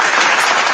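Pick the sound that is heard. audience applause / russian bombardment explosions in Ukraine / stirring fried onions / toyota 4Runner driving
audience applause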